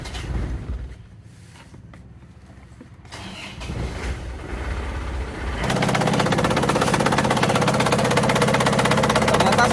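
An engine cranks with a few sputtering turns, catches, then settles into a loud, steady idle rattle.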